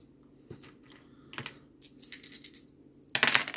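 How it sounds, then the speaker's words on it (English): Dice tumbling during a tabletop Strat-O-Matic baseball game, several light clicks and rattles on a hard surface, ending in a louder clattering burst as they spill off the table. "Dice off the table."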